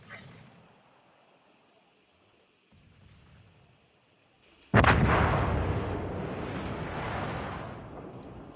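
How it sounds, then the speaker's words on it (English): Warship artillery in World of Warships, a naval combat video game: after a quiet stretch with faint background noise, a loud heavy cannon blast erupts and rolls into a long, sustained rumbling roar. "Concentrate fire on the enemy warship."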